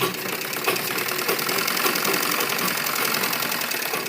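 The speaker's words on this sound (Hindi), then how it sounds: "अब हम यहाँ पर आधा इंच का कपड़ा रखते हुए यहाँ पर सिलाई लगाएंगे" A sewing machine stitches a half-inch seam in fabric for a child's Afghani salwar, running in a fast, steady mechanical whir with a dense rhythmic chatter throughout.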